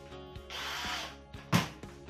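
A power drill pre-drills screw holes for a hanging cake stand. It gives a whirring run of about three-quarters of a second, then a sharp, louder short burst, with faint ratcheting clicks between, close by and with no talk.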